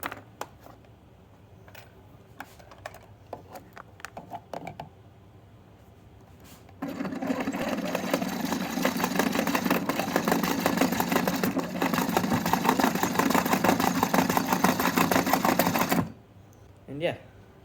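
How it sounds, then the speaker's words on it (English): A small hand-crank generator able to reach about 60 volts, cranked for roughly nine seconds as a steady, loud grinding whir that starts abruptly and stops abruptly, with light clicks and handling noises before and after. "it makes a lot of volts for just a little hand crank generator"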